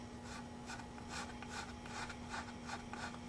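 Rounding off the corners of a violin end block by hand, a faint, rhythmic rasping and rubbing of a file or rasp on wood, repeated strokes roughly every third of a second, close and quiet with no talk.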